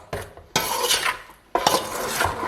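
A spoon stirs chili powder and spices in a pot off the heat, making loud scraping and clinking strokes in two long bursts, close up and with no talk.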